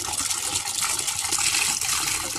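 Hot broth is poured off boiled quail eggs and cold tap water runs into the pot, a short continuous gushing, splashing stream close up.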